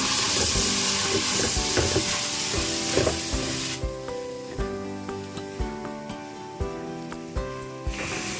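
Curry leaves sizzle loudly in hot oil in a pan for a Kerala-style fish curry with raw mango and coconut milk. A steady hiss fills the start, then regular scraping taps of mixing sound close by.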